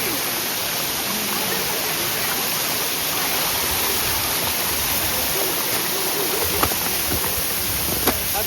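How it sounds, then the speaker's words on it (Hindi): A waterfall pours down from above, a loud, constant rushing hiss of falling water that fills the whole stretch evenly, with a couple of faint clicks near the end. "ये देखो ऊपर से झरना आ रहा भाई"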